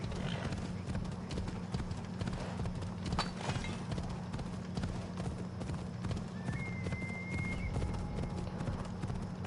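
Steady hoofbeats of a horse trotting in the Assassin's Creed Odyssey game, close and continuous over a low constant hum, with a brief whinny-like tone near the end.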